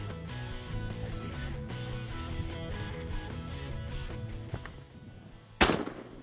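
A Remington 870 shotgun fires once on a morning duck hunt in buck brush, a single loud, sharp report near the end, standing out against steady background music.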